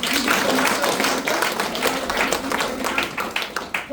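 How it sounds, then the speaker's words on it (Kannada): A crowd claps steadily in dense, continuous applause that fills the whole stretch, with some voices mixed in. "ಅವ್ರಿಗೆ ಜೋರ ಚಪ್ಪಾಳೆ ಕೊಡಿ"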